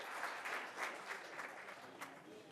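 A council meeting audience applauds at a special called session, a steady patter of many hands clapping at moderate distance, with a faint voice speaking under it.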